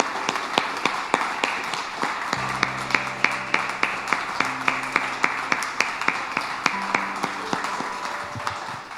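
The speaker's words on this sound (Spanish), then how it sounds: "Dile un aplauso al Señor, hermano." A church congregation clapping in a steady rhythm, sharp regular claps repeating with faint sustained musical tones underneath, no voices.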